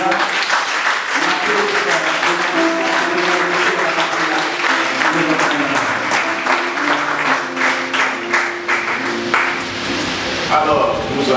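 Congregation at a church convention applauding, dense continuous clapping from a crowd with some voices mixed in, loud and sustained throughout.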